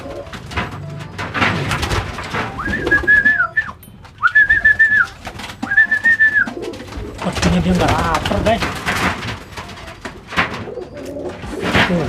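Caged birds call loudly at close range, with three clear whistled notes followed by softer cooing and chatter, while someone talks over them and cage handling noises sound.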